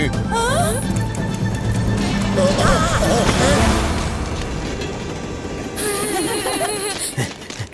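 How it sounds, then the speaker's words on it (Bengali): An approaching train in an animated cartoon rumbles in dense, roaring waves with bursts of high whistle-like tones near the start and end, loud and close throughout. "না মানে শিবা, ট্রেন আসছে।"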